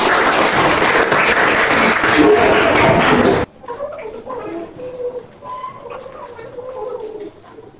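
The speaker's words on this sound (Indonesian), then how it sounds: "Tepuk tangan untuk kita semua" Loud group clapping in a classroom lesson fills the first half, then cuts off abruptly, leaving quieter room sound with scattered voices and soft cooing.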